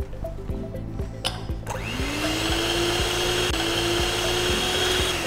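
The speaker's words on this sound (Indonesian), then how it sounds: "Jadi ini aku udah siapkan putih telur, dan ini kita akan mixer sampai dia sedikit mengembang" An electric hand mixer whips egg whites in a bowl for cheesecake, a steady loud whir starting after a brief clatter and holding a constant pitch throughout, close and alone with no talk.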